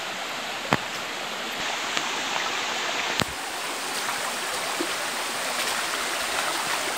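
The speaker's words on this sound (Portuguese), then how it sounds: "em 3 minutos de trilha a gente já encontrou a primeira queda d'água" A waterfall beside a forest trail near the Rio dos Sinos source, a steady broadband rushing roar heard close and alone, with a couple of faint clicks.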